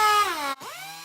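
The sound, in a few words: air-powered tool sanding with 250 grit sandpaper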